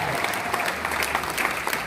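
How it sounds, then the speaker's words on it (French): Church congregation at a French-language sermon applauding and cheering, dense continuous clapping with raised voices throughout, steady and fairly close, no pauses. "Est-ce que quelqu'un peut acclamer la parole?"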